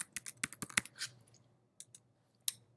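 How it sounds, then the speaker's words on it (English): Fingers tap out a short word on a computer keyboard into a search box, a quick burst of crisp clicks followed by a few scattered keystrokes, close and quiet with no talk. "I'm going to type into the search"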